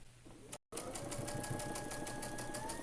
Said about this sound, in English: this is sewing the first row to the second row